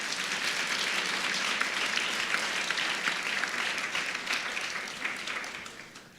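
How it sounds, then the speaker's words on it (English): Sustained, full applause from an audience honoring women at a Women's History Month celebration in Brooklyn, dense clapping holding steady before gradually tapering off. "So let's give our honorees a hand."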